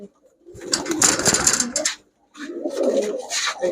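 Pakistani 35 pigeons coo in two close, throaty bouts, the first longer and rolling, the second after a brief gap, with no voices.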